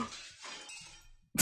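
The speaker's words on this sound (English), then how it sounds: "Some glass object splinters with a monumental crash behind us as we make for the exit." In the Hatoful Boyfriend video game, a glass object shatters with a crash: a bright breaking burst with clinking fragments, followed by a short silence and a sharp new impact at the end.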